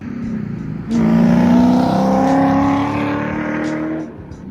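A C5 Corvette's engine swells into a loud, steady drone with a strong low tone, holds for a few seconds, then eases off and fades.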